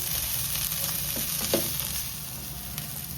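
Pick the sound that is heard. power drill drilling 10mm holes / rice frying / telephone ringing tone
rice frying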